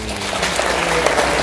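Audience applause during a film talk at a music box theatre, a short burst of clapping filling the room at steady loudness, with a voice faintly mixed in.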